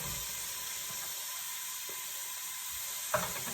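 Two stalks of chopped celery hitting a hot pot with softened vegetables, giving a steady low sizzle with a brief louder splash near the end.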